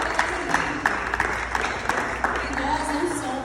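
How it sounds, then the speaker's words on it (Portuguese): Audience at a leadership seminar clapping, a moderate crowd applause with distinct individual claps popping out in a loose rhythm, while a voice talks over it. "Então vamos bater palmas, né?"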